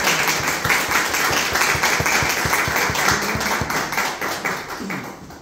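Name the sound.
audience applause for an author at a book presentation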